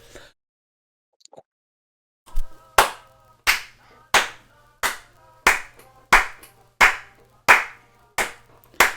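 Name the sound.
audience applause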